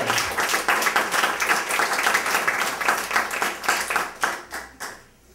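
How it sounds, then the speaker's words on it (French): Dense applause from a conference audience, honouring the caterer at a closing session, rings out close and full for several seconds before thinning into a few last claps and stopping. "je pense qu'on peut lui faire une bonne main d'applaudissement"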